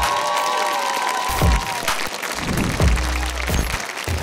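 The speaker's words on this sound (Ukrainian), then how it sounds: "Бампер, ваші оплески!" An audience at a Ukrainian comedy battle show applauds and cheers a guest called Bumper, with loud clapping and whoops that swell in bursts, while a voice carries over the opening moments.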